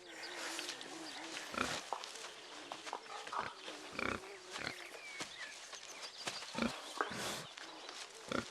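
Wild boar in a flooded riverside forest along the Danube root and grunt close by, with repeated short snorts and rustles coming in an uneven rhythm.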